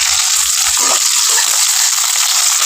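Onions fry in oil with mustard seeds and green chillies, a loud, steady sizzling hiss that fills the whole stretch, with a few low knocks beneath it.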